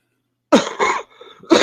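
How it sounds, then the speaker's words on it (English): A person coughs at close range, two or three harsh bursts after a brief silence, loud and dry with a short pause between them. "Cough, yeah, cough."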